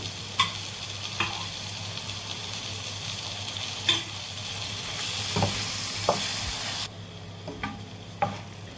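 A spoon stirs vegetables with broth and tomato paste in a pan, a steady close sizzle with scraping knocks every second or so; no one speaks.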